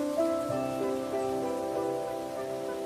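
Summer rain downpour in a mountain valley, a steady close patter of drops on surfaces with a few scattered louder splashes, no voices.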